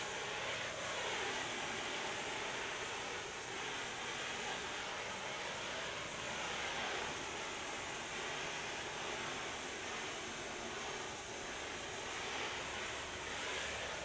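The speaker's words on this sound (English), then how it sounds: "That's oxygen blowing out to cut the metal." An oxygen cutting torch heats and cuts metal during a 1971 GMC truck build, giving a steady, loud roaring hiss that continues without a break and has no talk over it.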